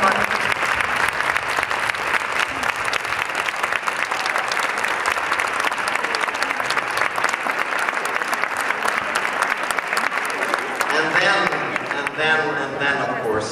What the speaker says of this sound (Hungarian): Szeretném, hogyha egy hatalmas tapszal köszönitek kollégáimnak.